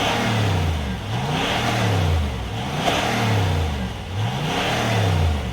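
A 2014 Range Rover Vogue SDV8 diesel engine revs repeatedly, its deep V8 tone rising and falling in steady sweeping cycles, loud and close with no talk.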